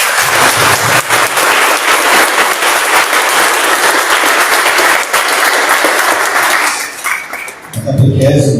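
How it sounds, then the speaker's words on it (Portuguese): A church congregation applauds catechism students at Sunday Mass, loud sustained clapping from a crowd that fades near the end as a voice begins speaking. "com a salva de palmas"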